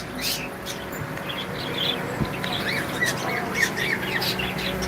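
A very large parrot in a pet shop gives repeated loud squawks and chirps over a steady, busy indoor background hum, with people talking nearby.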